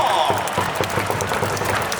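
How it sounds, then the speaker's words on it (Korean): A loud crowd claps at a Korean professional baseball game with the LG cheer squad, a steady wash of applause driven by a regular, pounding beat, with cheering voices mixed in. "저쪽에는 경례 박수를 따뜻하게 보내주세요"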